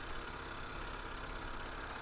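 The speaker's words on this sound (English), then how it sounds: "Not the most manly sounding engine" A car engine idles steadily with a thin, whiny tone, a continuous even hum with no pauses, moderately quiet and heard alone.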